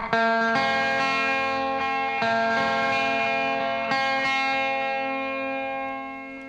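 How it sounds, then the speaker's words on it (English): Sustained electric guitar chords ring out with heavy delay and reverb, several strums washing together, then the echoing tail slowly fades. "You can hear the delay tail after things fade out"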